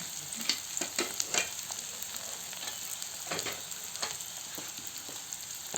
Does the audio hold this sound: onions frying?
yes